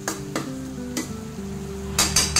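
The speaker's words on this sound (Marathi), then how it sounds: "आता हे सगळे असं परतून घ्यायचं।" Spices and masala sautéed in a pan for a pasta dish, a low continuous sizzle broken by a few sharp spoon scrapes, close and without speech.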